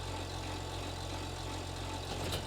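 A tractor engine idles steadily in a farming video game, a continuous low rumbling drone with constant loudness and no voices over it.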